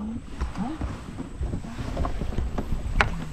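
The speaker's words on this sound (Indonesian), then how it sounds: "suara air, plus suara mesin perahu" A boat engine drones low on a river amid wind buffeting and splashes, with faint voices and scattered knocks mixed in.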